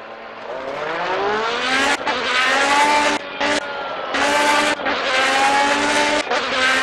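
A race car in the Project CARS racing game spinning out, engine revs rising and dropping in loud bursts with brief cuts between, tire noise under the engine whine.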